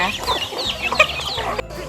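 Chickens kept together with ducks cluck busily at feeding time, with close, overlapping calls and someone speaking over them.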